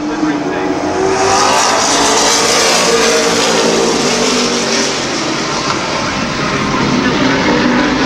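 Eight race cars roar off at the start of an eight-lap heat at Midvale Speedway, a loud, sustained engine blare that holds steady throughout, with an announcer talking over it.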